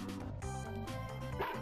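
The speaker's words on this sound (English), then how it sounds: "Woof woof!" Dog barking in the video game Mother 3, a few short yips and woofs in quick succession, soft and alone.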